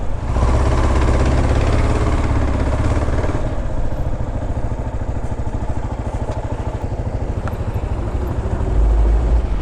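A Kawasaki KLR 650 motorcycle sets off across Confederation Bridge, its single-cylinder engine loud and close, with a steady thumping drone and a clattering pulse that eases midway and swells again at the end, with no talk.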